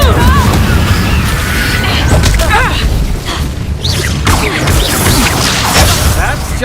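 Incendio fire spell blasting in a Harry Potter-style video game, a loud roaring whoosh and rumbling burst of flame under busy game effects and shouting voices, sustained throughout with a brief dip midway.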